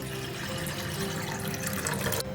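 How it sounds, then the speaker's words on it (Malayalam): Water pouring from a tap into a saucepan set on the stove for boiling pasta, a steady close rushing flow lasting a couple of seconds before cutting off abruptly, no voices. "അതിലേക്ക് 4-5 കപ്പ് വെള്ളം ഒഴിച്ചു കൊടുക്കാം"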